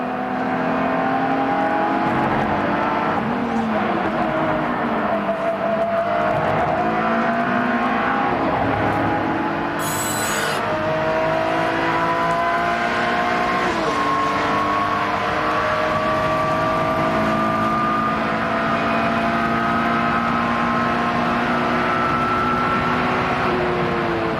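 In-car engine noise from a World Challenge touring race car at Sebring in 2004, continuous and loud, with rising and falling pitch as it accelerates and shifts gears through the lap.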